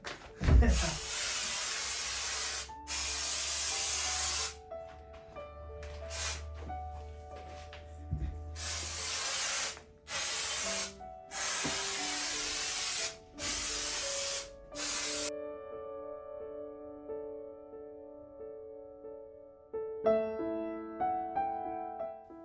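Artificial snow sprayed from a can onto a Christmas tree, a series of sharp hissing bursts with short gaps between them, close, followed by quiet tonal music.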